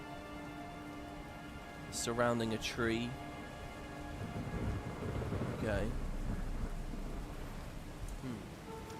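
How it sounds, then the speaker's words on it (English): Steady rain and storm ambience in the video game Guild Wars 2 hiss softly throughout, with a low rumble swelling midway, while someone talks over it. "I noticed guessing we got this storm sound as well here."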